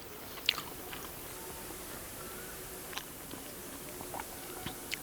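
Quiet, close chewing of chicken donne biryani, a Karnataka-style rice dish, with soft wet mouth sounds and a few small crunchy bites over a low background hiss.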